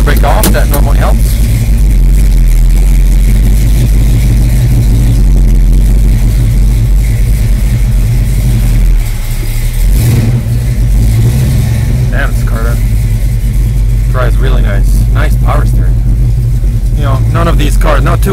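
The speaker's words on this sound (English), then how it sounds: "Oh, that's a happy motor." A 1967 Chevelle SS 396 V8 rumbles loud and close, idling with a deep steady burble and swelling briefly around the middle; someone talks over it in places.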